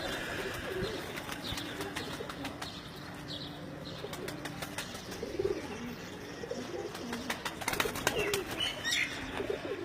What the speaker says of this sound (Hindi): उस्ताद मियाँ नज़ीर ललियानी वाले उनके घर के ये जो टेडी सलारे कबूतर हैं